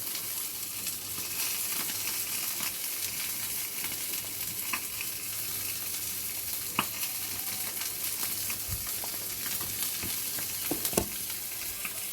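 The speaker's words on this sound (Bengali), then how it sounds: "আর এখান দিয়ে আমাদের মাছ ভাজাও কমপ্লিট মাছটা তুলে নেবো" Fish fries in a pan with spices, a constant close sizzle with occasional sharp pops and crackles throughout, steady in level and free of talk.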